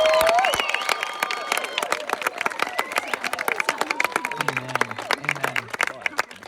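Crowd applause with scattered clapping and cheering, starting strong and thinning into lighter claps, with voices murmuring underneath.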